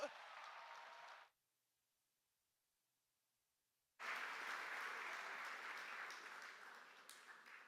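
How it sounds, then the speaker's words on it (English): Audience at the CANTO 2025 opening ceremony in the Bahamas claps loudly, a burst that cuts to silence for a few seconds before a second, fuller wave of sustained applause resumes and carries on. "Go ahead, clap your hands and welcome to the Bahamas Canto."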